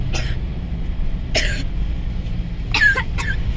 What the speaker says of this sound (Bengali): আবার কাশি হচ্ছে কেন?